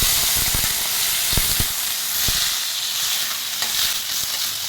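Masala spices fry in a clay pot for a field bean gravy, giving a loud, steady, crackling sizzle with scattered sharp pops throughout. No one speaks.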